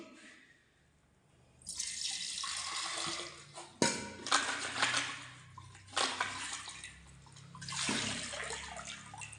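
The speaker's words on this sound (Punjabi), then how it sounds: "ਹੁਣ ਇਹਨੂੰ ਆਪਾਂ ਸਾਫ ਪਾਣੀ ਨਾਲ ਧੋ ਲੈਂਦੇ" Running water gushes and splashes into a jug in several bursts, with short pauses between pours, close and fairly loud, no voices.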